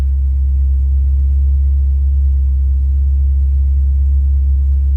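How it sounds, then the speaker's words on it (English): A Ford Fairlane engine idling high, heard close as a loud, steady low rumble that holds without variation throughout, with no talk. "Feels like the idle's up."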